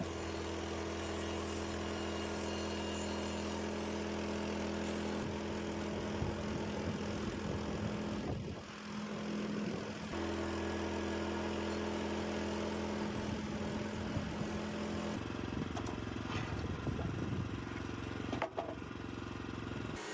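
An HM126 sawmill with a 1.4 horsepower engine runs steadily as it slices through a massive birch log, a constant mid-pitched engine drone with rougher cutting noise rising and shifting partway through, moderately distant and without talk.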